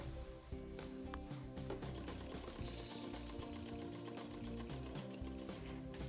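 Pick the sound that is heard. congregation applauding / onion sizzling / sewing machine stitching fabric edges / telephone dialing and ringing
sewing machine stitching fabric edges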